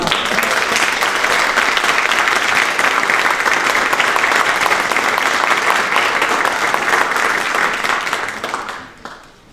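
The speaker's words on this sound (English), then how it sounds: "Can we give them another round of applause?" Audience applause for middle school handbell musicians at a winter concert, loud sustained clapping from a full room that carries steadily before fading out at the end.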